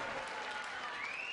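Steady applause and crowd noise fill a darts arena at the PDC Grand Slam of Darts after a 140 score, a continuous broad wash of clapping at moderate level with no pauses.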